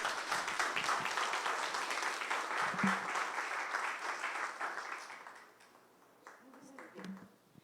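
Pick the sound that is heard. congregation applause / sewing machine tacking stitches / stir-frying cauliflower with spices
congregation applause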